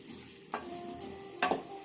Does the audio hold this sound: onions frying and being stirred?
yes